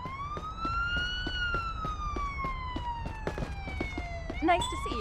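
A wailing emergency siren in the Xbox Series X police game Police Simulator: Patrol Officers, sweeping in a long slow rising and falling tone that holds steady throughout, heard close and loud, with faint chatter underneath.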